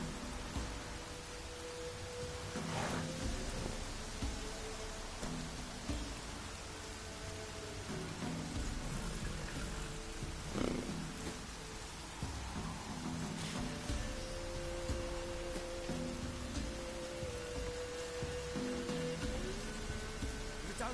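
Rain falls steadily in The Witcher game world, a soft continuous hiss with scattered drops, faint and even, with muffled background tones and a distant low rumble.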